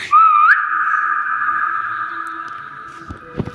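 A single person whistles a sustained, steady tone that briefly rises at the start, close and clear, lasting about three seconds over quiet background, in a game setting based on SCP-3008.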